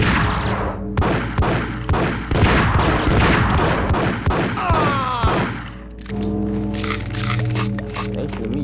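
Rapid bursts of gunfire in the video game Max Payne, loud cracking shots in quick succession, followed by a quieter stretch with game music tones.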